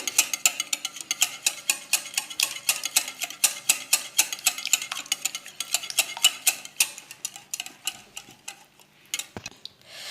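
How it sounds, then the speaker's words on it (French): A spoon scrapes and clinks rapidly against a pot while stirring a semolina mixture with garlic for a Kabyle dish, a dense run of sharp, regular ticks and scrapes, close and loud, with no talking. "Donc à chaque ajout, vous mélangez."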